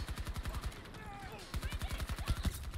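A PP-29 submachine gun fires in Battlefield 2042, rapid automatic bursts with a short pause in the middle and then a second sustained burst, loud and close.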